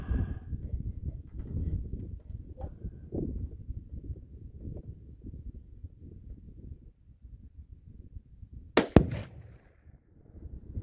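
A Tannerite target at 100 yards detonates with one sharp, loud boom after a 17 HMR shot from a Tikka T1X rifle, rising briefly above steady wind noise outdoors.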